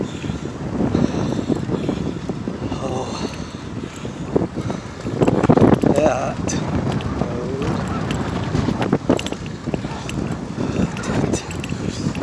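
Wind gusts buffet the microphone during an outdoor ride beside Lake Coeur d'Alene, a loud, continuous roaring rumble with surging swells, heard alone without talking.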